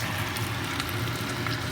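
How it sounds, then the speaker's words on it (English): Steady crackling sizzle of skinless sweet longanisa sausage frying in its own oil over medium-low heat, a continuous dense hiss with small pops throughout and no voices. "So I'm just kind of frying it for that, with that oil now."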